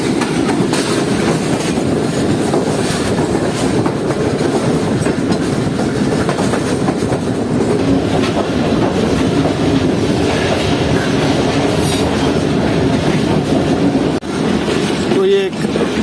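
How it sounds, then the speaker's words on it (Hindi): A train running on the rails after leaving a station near Karachi, heard from inside a business-class carriage as a loud, continuous rumble with rhythmic clickety-clack and a faint wheel squeal near the end. "रेलवे स्टेशन को छोड़ने के बाद ट्रेन की रफ्तार कुछ इस तरह की है।"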